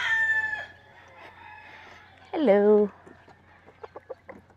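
Roosters crow and cluck nearby on an early-morning village stroll on Malapascua island in the Philippines: one long crow opens, a second loud crow follows midway, then short clucks, with a person greeting the birds.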